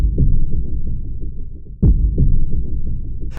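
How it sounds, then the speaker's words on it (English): A slow, deep heartbeat effect for a motocross commercial thumps in heavy, muffled beats over a low throbbing hum, loud and close, with no other sounds. "we have two heartbeats"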